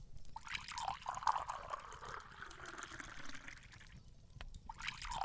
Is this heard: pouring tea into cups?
yes